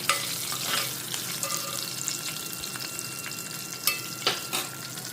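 Carrot pieces fry in oil in a pan, sizzling and crackling steadily, with a few louder stirring scrapes and pops near the end; no talking.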